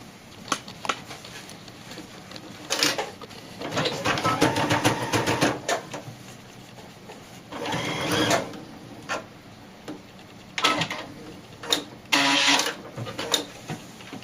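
A sewing machine runs in several bursts of rapid mechanical stitching while sewing a doll dress, with short pauses and quieter handling sounds between runs.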